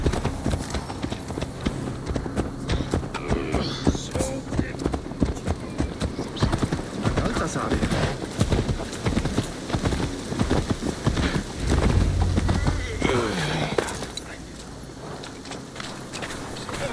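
Horse hooves clip-clopping in Assassin's Creed Valhalla, a steady walking rhythm of hoofbeats up close with a whinny mixed in and ambient game noise around.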